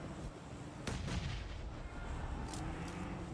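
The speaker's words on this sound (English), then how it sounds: "Nade after nade to keep the pressure on downhill." Repeated grenade blasts in PUBG Mobile during a downhill push, sharp bangs landing one after another over a steady game-sound bed, with no talk heard.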